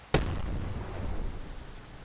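A single artillery shot fires in a World War II strategy game, a sharp, loud boom that fades into a rumbling tail, with no talk over it.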